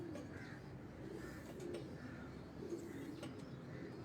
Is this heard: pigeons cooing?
yes